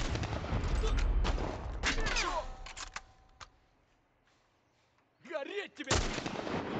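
Gunfire in The Last of Us video game: sharp shots and bursts crack loudly through the first half, then a pause and another loud burst near the end, with voices talking over parts of the fighting.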